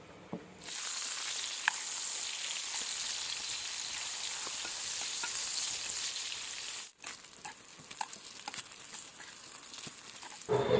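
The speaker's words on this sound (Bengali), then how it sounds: "এখন ওই বেগুনটা ভাজবো ভেজে ডিনারটা রেডি করে রাখবো" Continuous crackling sizzle of eggplant slices frying in a pan, briefly cutting out, then resuming with scattered pops and faint clatter.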